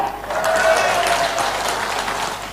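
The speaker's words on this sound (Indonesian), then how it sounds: "Tepuk tangan yang meriah" Audience applause at a televised debate for regent and deputy regent candidates of Kuningan Regency, a sustained wash of clapping that swells quickly, holds, then eases slightly, with a few faint tones mixed in.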